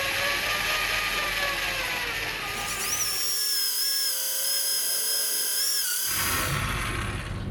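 A power drill bores a hole through a boat hull, whining and grinding steadily and loudly up close, with the pitch shifting as it bites deeper and no talk.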